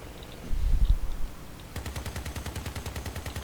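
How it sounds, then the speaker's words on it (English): A rapid burst of Gatling gun fire from a light armored vehicle in Crossout, starting partway through as an even, fast, loud rattle after a low rumbling engine. "I might be able to show it with the gatling gun on this little guy."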